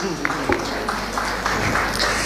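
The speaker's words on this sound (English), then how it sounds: "please, the sound team, a round of applause" A round of applause from an audience at a presidential pitch event, steady, even clapping throughout the short stretch with no clear pauses.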